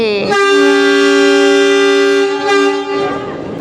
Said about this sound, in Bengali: এক্ষুনি টয় ট্রেনটা ছাড়বে সবাই উঠে গেছে এখন আমাদের টয় ট্রেন ছাড়বে